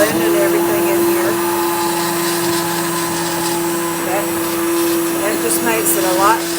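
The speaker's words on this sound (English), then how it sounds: "here's my immersion blender, and I'm just going to just start blending everything in here" An immersion blender whirs steadily through a pot of autumn soup, a continuous motor drone with a constant pitch that holds for the whole stretch, loud and close, with no pauses.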